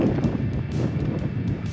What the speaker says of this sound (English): It's getting pretty cold and windy being up here.